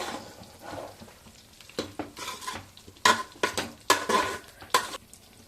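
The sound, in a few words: mixing and stirring non-veg dish in a pan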